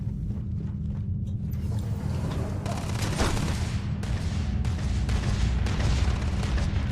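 Enemy gunfire in Starfield, a dense loud fusillade of booming shots and bursts layered over a constant low rumble, close and sustained throughout.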